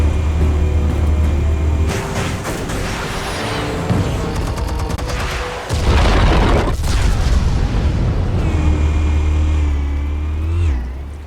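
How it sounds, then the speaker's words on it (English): Explosives detonating in Batman: The Telltale Series, a sustained loud roar of blasts and rumbling with a deep boom near the middle and rattling debris, no speech. "Explosives armed. Fire when ready."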